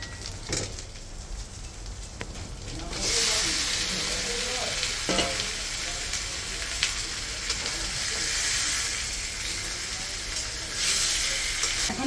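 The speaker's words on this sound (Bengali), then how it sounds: "ম্যারিনেট করা মাংসগুলি এখন দিয়ে দেব।" Marinated chicken for biryani hits hot oil with spices in a home kitchen, giving a steady, loud sizzle and hiss with stirring scrapes throughout, swelling as the meat goes in.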